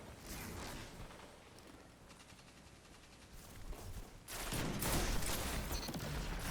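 Gunfire in a video game, a dense rattle of rapid shots under a noisy game mix that grows louder and busier partway through.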